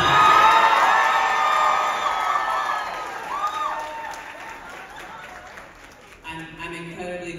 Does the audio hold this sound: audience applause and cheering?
yes